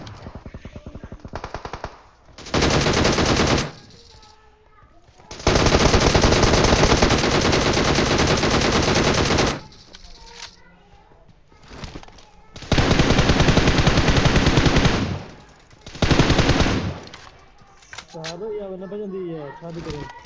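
Bursts of automatic gunfire sprayed at a wall in a video game, several long loud volleys with pauses between them, while players talk over and between the shots.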